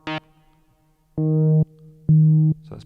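A Moog Matriarch synthesizer plays sustained low notes while its filter cutoff is turned down: a short bright burst, then two held buzzy tones that sound darker and more muted.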